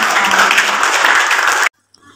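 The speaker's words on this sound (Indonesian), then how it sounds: "Sekali lagi tepuk tangan Bapak sekalian buat kita semuanya hari ini." Loud, sustained applause from a crowd at a university economics faculty class reunion, dense and steady before cutting off abruptly, with faint sounds after.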